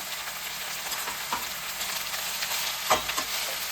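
Mint and greens frying in oil for a mushroom pulao, a soft, continuous sizzle close at hand with a couple of brief stirring clatters near the end, no one speaking.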